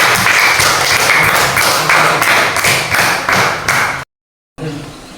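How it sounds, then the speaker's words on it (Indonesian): Classroom applause for a student group after its presentation in an Indonesian teacher-training session: many hands clapping loudly and close for about four seconds, then a brief dropout before the room noise returns. "tepuk tangan untuk kelompok 1"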